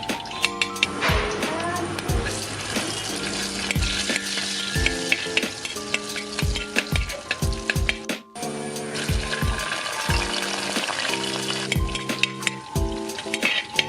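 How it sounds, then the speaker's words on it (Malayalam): Almonds fry in hot cow ghee in a pan for semiya payasam, a busy close sizzle broken by repeated scraping and clanking of a spoon against the pan, with a short pause partway through. "പശു നെയ് ഒന്ന് ചൂടായി വരുമ്പോൾ അതിനകത്തേക്ക് ബദാം ഇട്ട് ഒരൊറ്റ മിനിറ്റ് ഒന്ന് മൂപ്പിക്കാം"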